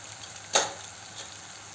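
Soybean bhaji with tomato, coriander powder and turmeric sizzling in a pan, a soft steady frying hiss with one brief sharp scrape of stirring.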